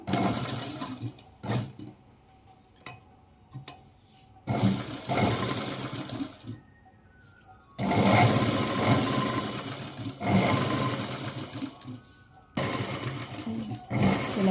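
Sewing machine stitching a Punjabi dress in short motor-driven bursts of a few seconds each, separated by quiet pauses, running close and fairly loud with a steady whirring hum.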